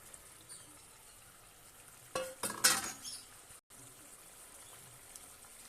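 Tengra fish drop into a boiling curry gravy, setting off a sudden loud sizzling splash that fades after about a second, between stretches of quiet bubbling.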